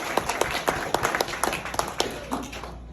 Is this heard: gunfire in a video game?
no